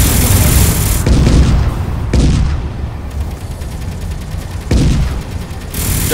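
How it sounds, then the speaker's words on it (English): Heavy, continuous gunfire from a PvP video game fight, with dense rapid bursts and booming impacts layered into a loud, unbroken barrage. "Are they shooting back at you still?"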